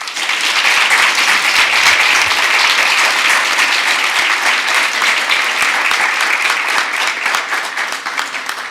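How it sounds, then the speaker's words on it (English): Audience at a school board meeting applauds a high school senior receiving a monthly award, a sustained, even roar of many hands clapping throughout. "please give a big round of applause for this month's President's Award winner"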